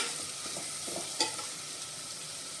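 Vegetables sautéed and stirred in a pan with a pinch of turmeric for veg biryani, a soft steady sizzle under light scraping stirs, with one sharper clink of the spoon partway through.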